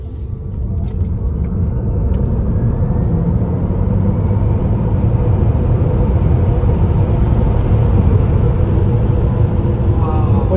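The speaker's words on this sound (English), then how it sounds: "foot down as hard as it'll go on the brake, and mash the gas" Tesla Model X Plaid accelerating hard from a standstill on a road, a steady low electric drive rumble with road and tyre noise that builds gradually and holds loud throughout, with no gear changes.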